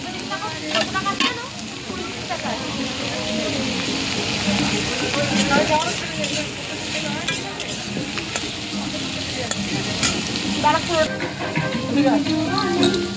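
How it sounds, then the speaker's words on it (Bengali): Food sizzles steadily in a pan with scraping stirring sounds throughout, while a person talks over the frying. "এই যে এটা ভাজা হচ্ছে"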